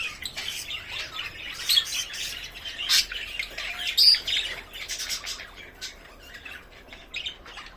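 Young chicks in breeding nests squawk and chirp in busy, overlapping bursts, shrill and close, with brief louder calls rising above a constant chatter.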